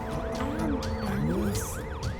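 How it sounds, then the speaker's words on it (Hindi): An ambulance siren wails in a fast, regular up-and-down cycle, repeating about every quarter second, fairly loud and steady above a low background rumble with no voices. "यहाँ पर एम्बुलेंस आ गई है।"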